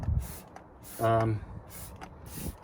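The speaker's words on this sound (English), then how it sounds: "Just spray it everywhere," An aerosol can of rust-protection spray hisses in one short burst over van brake metalwork during a disc and pad change, surrounded by brief rustling and handling noises.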